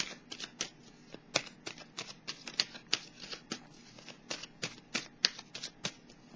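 A tarot deck is shuffled close by, giving soft, quick riffling flutters and card slaps in an uneven rhythm. The sound is fairly quiet and heard alone.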